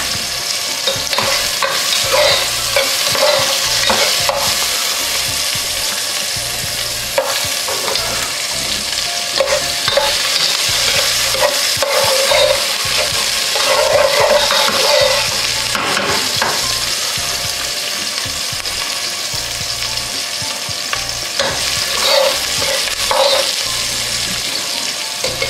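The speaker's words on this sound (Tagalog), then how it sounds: "haluin lang natin to hanggang maging golden brown" Chicken pieces fry in a pan for adobong manok while being stirred, a steady close sizzle with repeated scraping and clattering stir strokes throughout, no talking.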